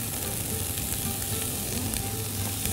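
Spinach frying in a pan, a dense, continuous close sizzle with light crackle that stays loud and even for a few seconds, with no voices.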